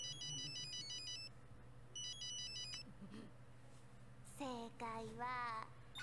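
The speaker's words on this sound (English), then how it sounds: "Calling on the phone." A ringing phone in an anime episode sounds as a repeating electronic ringtone in two bursts, with a voice speaking over the end of the clip.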